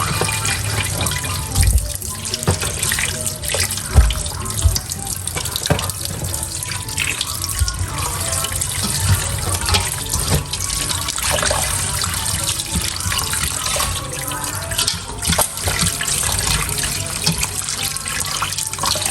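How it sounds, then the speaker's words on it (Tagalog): Tap water runs steadily into a sink while galunggong fish are rinsed, with occasional splashes and clatters as the fish are handled under the stream, close and fairly loud, no talking. "Akin po munang huhugasan itong mga isda para po nalilinis."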